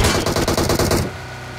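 A DP machine gun in a battle royale video game fires a rapid burst of about a dozen loud, close shots in quick rhythm, then cuts off abruptly.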